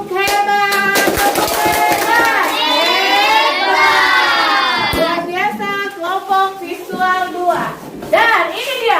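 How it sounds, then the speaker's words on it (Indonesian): A classroom of children claps a rhythmic cheer together, with loud, bright young voices shouting and chanting in unison over the clapping. "kita berikan tepuk hebat"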